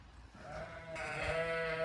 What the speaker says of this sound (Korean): 가는 곳마다 양이 있네요.